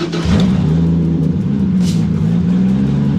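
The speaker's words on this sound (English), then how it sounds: "Just gonna warm up the tires first." A Honda CRX engine runs and revs near the microphone to warm the tires. The idle hum is loud and steady, with a slight rise in pitch near the start and a brief hiss partway through.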